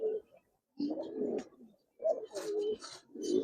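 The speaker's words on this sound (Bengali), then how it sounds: "পুরান জাতের কবুতর, একদম ফুল পুরান জাতের কবুতর" Old-breed Giribaz pigeons coo up close in three or four throaty, rolling bursts separated by short silences.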